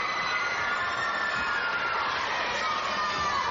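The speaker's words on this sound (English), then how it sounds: "They just need the crowd to make a little bit more noise" A crowd roars steadily at a 1996 National Mobil Super League netball match between Brisbane Mac Attack and A.I.S., loud cheering and shouting sustained throughout without a break.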